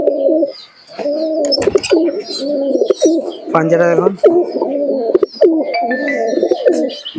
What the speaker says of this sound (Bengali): এই এক জোড়া কবুতর আছে দেখুন